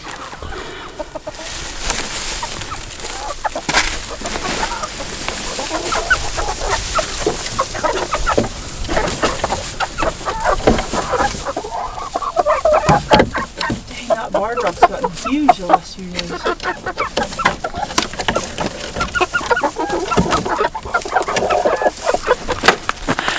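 Chickens cluck and chatter steadily in a pen on a farm, a busy close chorus of fowl sounds running throughout, with a person talking briefly over them.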